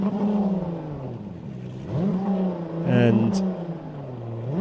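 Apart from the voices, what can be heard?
XCAT racing catamaran engines revving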